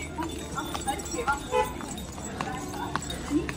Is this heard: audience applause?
no